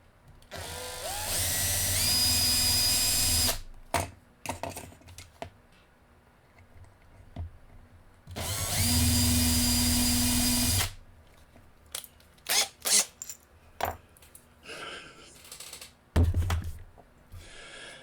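A power drill whirs loudly in two long bursts, with clanks, clicks and tool handling in between.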